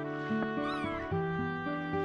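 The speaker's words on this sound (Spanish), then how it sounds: "Ah, es solo un gato." Cat meowing in the video game Chrono Cross, several drawn-out tonal meows heard close over steady game music, with no talking.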